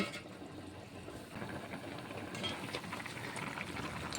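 A covered pot of aubergine curry with parshe fish, raw tomato and potato simmers on the stove, giving a faint, steady bubbling hiss that runs unbroken throughout with no voices.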